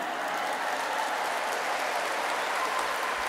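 An audience at an Islamic sermon for a Maulid Nabi gathering claps together, a dense steady wash of applause that holds evenly throughout with no voices over it.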